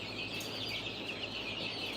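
Chickens in an indoor chicken room make a steady, busy wash of clucking and chatter that fills the space evenly from start to end, with a low hum beneath and no clear speech.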